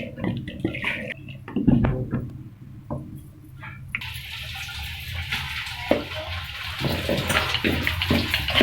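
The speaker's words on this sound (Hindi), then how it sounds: "अब इसमें पानी डालेंगे ठंडा।" Cold water poured into freshly churned cream from malai while making butter for desi ghee, a steady splashing, running-water wash that swells and continues throughout, close by with no talk.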